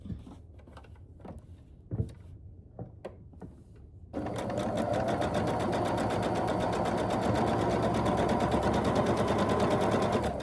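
A sewing machine runs a quarter-inch seam on a quilt block, starting after a few soft handling clicks and taps, then humming in a fast, even, continuous stitch, close up.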